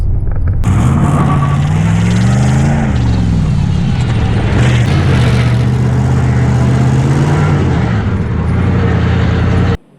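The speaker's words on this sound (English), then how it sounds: "Four-wheel drive on dirt. The first gear launch is pretty nice." A Jeep Grand Cherokee ZJ with a V8 and manual transmission launches hard in first gear on dirt with four-wheel drive, its loud engine revving up steadily and rising in pitch for nearly ten seconds, up close and without talk.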